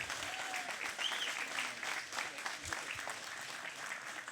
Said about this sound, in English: Big applause for Erik Wensberg.